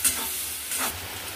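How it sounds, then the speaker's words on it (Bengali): Onion fries in a pan for a stuffed pointed gourd curry, giving a continuous close sizzle with a faint stir or two and no talk. "পেঁয়াজটা ভাজা হচ্ছে।"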